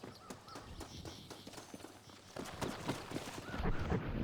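Horse hooves clip-clopping in the Western video game Red Dead Redemption, a steady run of close, repeated thuds that grows louder toward the end, with no talk over it.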